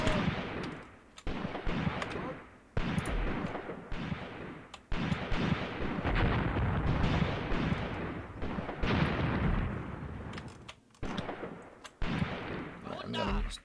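Repeated heavy gunfire and artillery booms from the World War II tactics game Graviteam Tactics, Shilovo 1942, rolling in long dense bursts separated by short gaps, loud and continuous.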